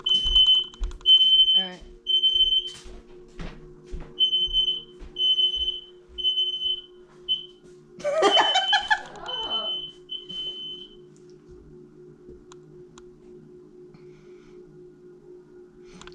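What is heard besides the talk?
fire alarm going off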